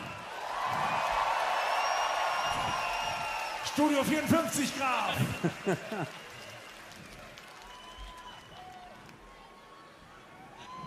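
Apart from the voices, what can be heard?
concert crowd applauding and cheering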